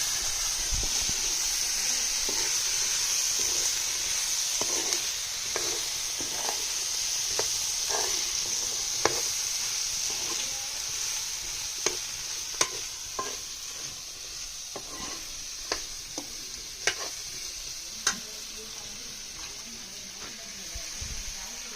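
Cashew apple bhaji being stirred in a pan, a steady frying sizzle underneath with repeated scraping clicks of the spoon every second or so, close and fairly quiet, no talking.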